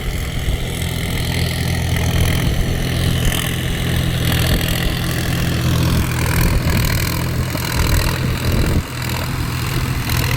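A Sonalika Tiger 50 DI tractor engine works steadily in a field in medium gear, a loud, continuous low diesel drone with a constant rumble, close by and without talk, briefly dipping near the end.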